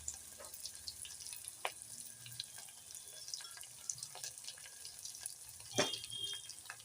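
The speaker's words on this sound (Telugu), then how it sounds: "అల్లం ఎల్లిగడ్డ కొంచెం వేగాక" Ginger and garlic fry in a pan for a ladies' finger (okra) curry, giving a soft, steady sizzle with scattered small crackles and one louder clatter near the end; no voices.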